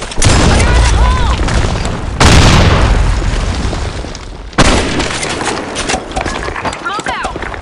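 Grenade blasts in the video game Insurgency: Sandstorm, two loud booms a couple of seconds apart over a constant roar of gunfire and battle noise, with voice callouts mixed in.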